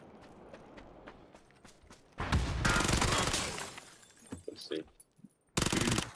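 Gunfire in a video game: a loud burst of rapid shots around the two-second mark, then scattered quieter bangs and another sharp burst near the end, with speech murmuring through the quieter stretches.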